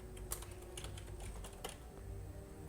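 Quick typing on a computer keyboard, a short burst of light, irregular key clicks close up and fairly quiet, with no talking.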